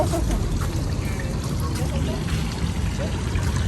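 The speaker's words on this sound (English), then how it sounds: "I just put my finger in every water fountain and I see." Water trickling and splashing from a garden water fountain, a continuous close-up pour with no pauses throughout.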